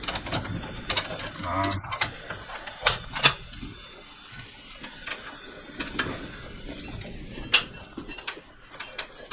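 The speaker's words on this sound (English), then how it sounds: "One more turn with the pipe wrench." A pipe wrench turns a brass scrap fitting, giving irregular metallic ratcheting clicks, scrapes and creaks at close range, with a voice talking faintly beneath.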